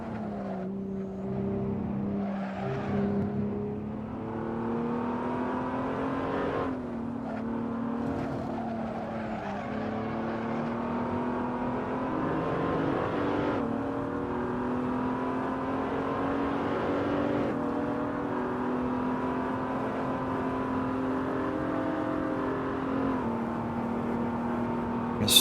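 A race car engine in a PC racing game's career mode drones steadily, its pitch rising and dropping through gear changes and braking into corners, with no one talking.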